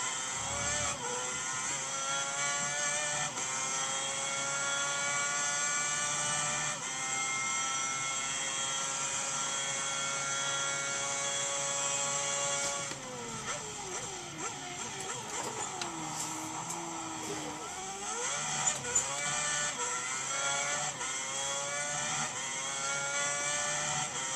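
A Formula 1 car engine in the racing game F1 2010 holds a high, sustained whine that rises through the gears, then dips and wavers as the car brakes and gets back on the power through a corner.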